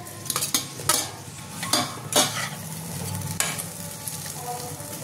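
Pieces of sankar fish fry in a pan for a Bengali kosha curry. A spatula scrapes and knocks against the metal in several distinct strokes over a steady sizzle, close up with no voices.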